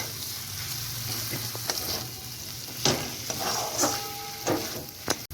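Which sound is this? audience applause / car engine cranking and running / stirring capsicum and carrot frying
stirring capsicum and carrot frying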